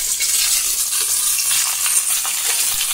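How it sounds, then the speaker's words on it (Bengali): Fish seasoned with salt and turmeric frying in hot oil in a pan, a steady close broadband sizzle and crackle running throughout with no talk. "3টে মাছই আমি ভাজা করে নিয়েছি সুন্দর করে"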